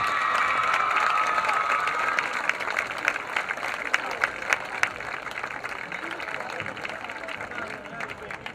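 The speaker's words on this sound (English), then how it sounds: "one last time, a big applause for your River Valley 2025 Homecoming Court" A crowd applauds and cheers in the stands at a high school homecoming football game, with dense clapping, scattered shouts and babble holding steady and fairly loud for several seconds, a public address voice briefly audible at the start.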